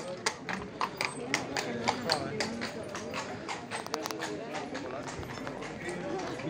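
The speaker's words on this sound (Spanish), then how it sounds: "Estos cochitos de caballos allí." Hooves clip-clop in a steady walking rhythm on pavement as a horse-drawn carriage passes in Ghent or Bruges, with people chatting and crowd noise around.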